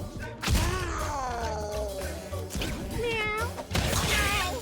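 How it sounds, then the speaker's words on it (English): Cartoonish cat meows from the video game Mewgenics, several rising and falling calls in quick succession, loud and close, with a couple of dull thumps between them and no talking. "Meow."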